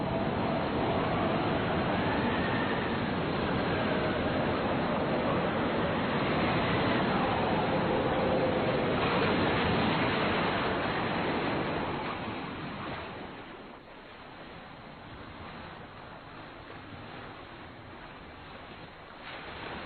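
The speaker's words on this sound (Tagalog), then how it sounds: "Tingnan nyo, mahina ng alon." Gentle ocean waves wash steadily in a broad, soft surf hiss, with some wind noise. The sound stays loud and continuous, then drops to a quieter wash for the last third. No voices are heard.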